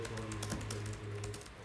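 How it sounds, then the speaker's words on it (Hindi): Rapid, close key clatter from typing on the keyboard of an ASUS ROG Strix SCAR 2 gaming laptop, steady even tapping over a constant low hum, with no speech. "और इसके अलावा अगर कीबोर्ड की बात की जाए तो आप इसका एक्सपीरियंस अभी"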